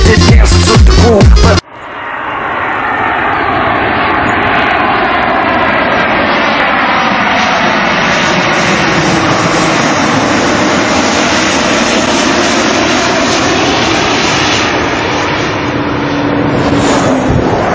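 Loud, steady drone of an airliner's engines on landing approach, continuous and close throughout after a brief burst of noisy rumble at the start; no talking.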